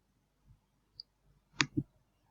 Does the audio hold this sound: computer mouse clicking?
yes